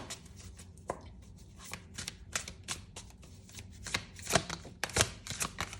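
Tarot cards being shuffled up close, a run of quick papery riffles and soft slaps with no talking.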